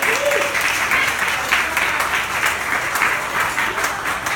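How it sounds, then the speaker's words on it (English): An audience of educators at a spring benefit gives a round of applause, steady dense clapping from a crowd filling the room for several seconds, with a few voices mixed in. "give yourselves and each other a round of applause"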